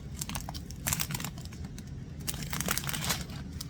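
Plastic packaging of diamond painting supplies being opened, giving a steady run of close crinkling and crunching with scattered sharper rustles and no talking.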